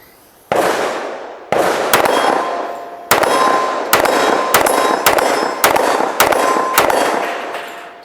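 A 1911 pistol firing defensive ammunition, about nine sharp, loud shots with ringing tails, a lone report, a pause, then a quick string of rapid follow-up fire.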